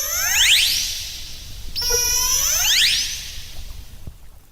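Orcas exchange communication calls: loud, rising and falling whistle-like squeals with sweeping harmonics. One call breaks off sharply and a second call follows, over a low watery rumble.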